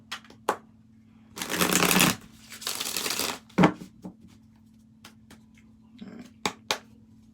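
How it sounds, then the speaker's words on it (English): Two long riffling bursts of a deck being shuffled, followed by scattered sharp clicks and taps of cards, close and clear. "Give it one more shuffle."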